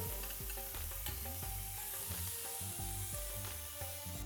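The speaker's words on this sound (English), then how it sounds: "fry the prawns" Prawns frying in oil in a pan, a constant close sizzle carrying rhythmic tonal clatter and stirring noises throughout, with no talking.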